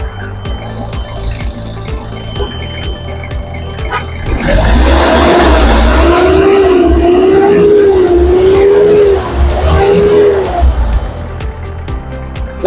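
A Mazda Bongo single cab's R2 2.2 diesel idles with low rhythmic pulses at the exhaust, then revs up for several seconds with a rising, wavering drone before settling back to idle.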